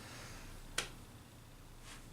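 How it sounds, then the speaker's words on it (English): One sharp single hand clap rings out near and alone against a quiet room, followed by a fainter soft tap a moment later. "And that's my one clap."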